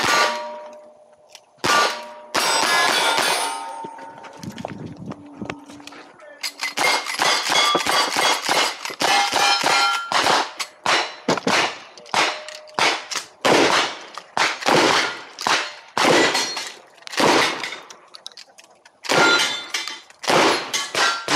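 Gunshots ring off steel targets in a cowboy action shooting stage, a fast run of sharp cracks each followed by a bright metallic clang, loud and close, with short gaps between shots and no talking.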